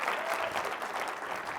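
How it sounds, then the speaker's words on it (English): Audience applauding at a nonprofit news festival event, a steady, fairly soft wash of many hands clapping that holds even throughout, with no voices over it. "You should clap for that."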